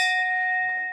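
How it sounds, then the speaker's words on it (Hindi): A temple bell struck once inside the cave temple of Patal Bhuvneshwar, Uttarakhand, ringing out clear and loud with a long metallic hum that slowly fades. "घंटी बजा देते हैं, जाते हैं यहाँ से।"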